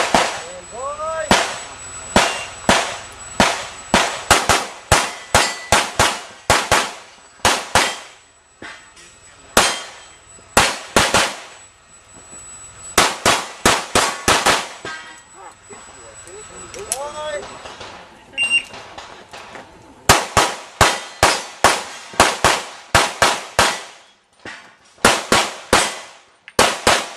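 Rapid strings of sharp gunshots ring out at the IPSC World Shoot practical shooting competition, fired in fast bursts with short pauses between strings. A few scattered single shots and a faint voice in the background fill the gaps.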